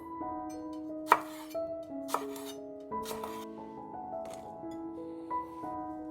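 Two spring onions are chopped with a knife on a board, a few sharp, irregular thuds up close over a quiet background with light music.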